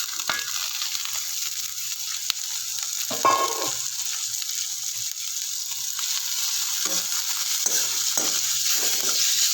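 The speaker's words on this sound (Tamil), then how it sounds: "பயரையும் சேர்த்து பயறு நல்ல எண்ணெயிலேயே வதக்கணும்" Long-cut beans sautéed in oil for a Kerala dish, a steady hissing fry with occasional soft stirring scrapes, close and without speech.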